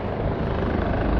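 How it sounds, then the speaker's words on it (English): A helicopter's steady rotor thrum fills the clip at Fisherman's Wharf in Macau, loud and continuous with a low pulsing rumble throughout. "You can also hear a helicopter that's probably landing."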